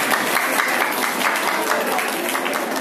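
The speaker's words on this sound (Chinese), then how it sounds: "在这里呢，其实想借用大家掌声一下，好不好？" A crowd at a Vesak festival performance of hand-pulled noodle stunts claps loudly and continuously, a thick, even wash of applause close by, with a voice faintly underneath.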